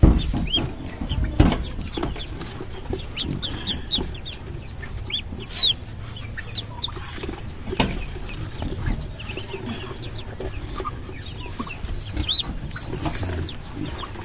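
Newly hatched chicks peep constantly in high, thin chirps while being shifted into a new cage, a busy overlapping chorus close by with occasional knocks and handling noises.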